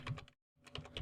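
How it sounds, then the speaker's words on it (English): A password is typed on a computer keyboard, quick bursts of close key clicks broken by a brief silent pause, then more rapid taps. "Then type in your password"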